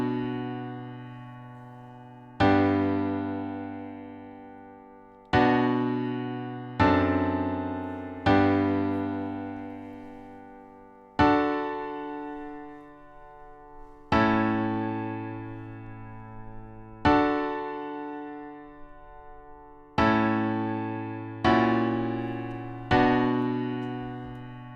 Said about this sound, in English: So altogether it sounds like this, but it's naked, just piano.